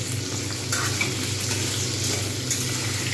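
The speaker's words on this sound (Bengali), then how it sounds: "একদম পুরো লাল করে ভাজবো" Potatoes fry in a pan in oil for a Bengali cabbage curry, giving a steady close sizzle with faint crackling and no talk.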